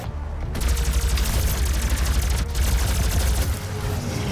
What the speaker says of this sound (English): Plasma gun is fucking brutal